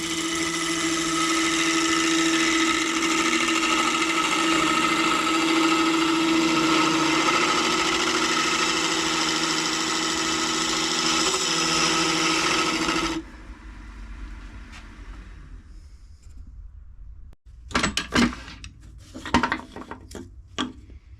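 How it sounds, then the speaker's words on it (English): A wood lathe spins as an EasyWood mid-size rougher cuts a segmented vase blank, giving a steady, loud scraping hum for about 13 seconds, then quiet with a few sharp knocks and rubbing sounds near the end. "Now here I've switched over to EasyWood's mid-size rougher."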